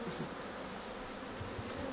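Bees buzzing steadily while a beekeeper handles them, a faint continuous drone with no speech.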